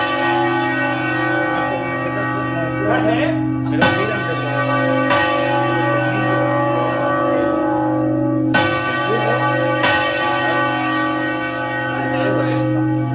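Church bells rung by hand in the Ribera del Duero ring out loud and close, with repeated heavy strikes over a long sustained hum, while people talk briefly nearby.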